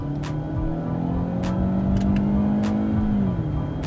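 A Ford Fusion with a six-speed paddle-shift gearbox accelerates in sport mode, its engine note climbing steadily in pitch from inside the cabin, loud and continuous with a brief shift around the midpoint.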